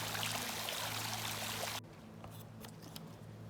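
Water pours steadily from a swimming pool outlet onto mesh in a pool converted to a natural pool, a loud, close rushing stream that cuts off sharply partway through, leaving faint trickles and drips.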